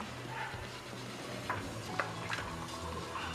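A piece of cinnamon stick sizzles in hot oil in a pan, a steady close crackle and hiss with a few faint clinks over it, no voices.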